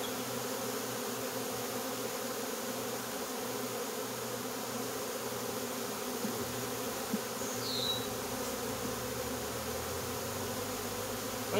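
Honeybees inside a hive, a continuous close buzzing drone that stays level and unbroken, with no voices.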